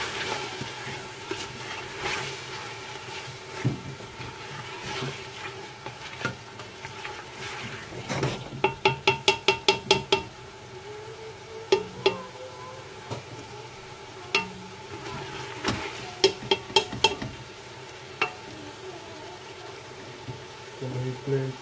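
Chicken cholay being stirred and mixed in a frying pan, with scattered clinks and scrapes and a brief run of rapid taps, while someone talks over the cooking for most of the clip.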